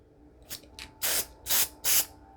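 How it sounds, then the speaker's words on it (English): Short bursts of adhesive spray hiss over dried leaves on a junk journal cover: two quick light puffs, then three longer, louder hisses in an even rhythm, close up. "maybe I need to do a light spray just to anchor them"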